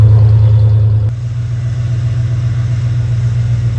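A 1991 Ford Bronco engine, with a head gasket problem, idles steadily after being restarted, a loud, even low hum with a slight drop in level about a second in; no talking.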